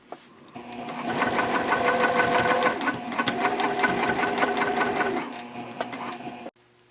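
A sewing machine top stitches a seam on a Hannah sling bag, its needle running in a rapid, even mechanical chatter for about five seconds, briefly pausing midway, close and clear before stopping.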